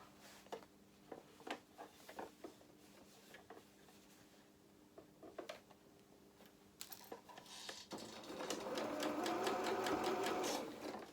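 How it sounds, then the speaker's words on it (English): A sewing machine runs tacking stitches to hold a trouser pleat in place, starting with short intermittent bursts and clicks, then settling into a louder continuous run of stitching near the end. "It's just a few tacking stitches just to hold that into place"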